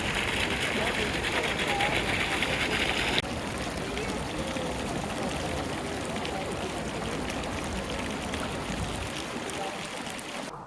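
Water current flowing through a round indoor pool, a steady close rushing and gurgling wash that carries on throughout with no pause, with a short louder stretch at the start.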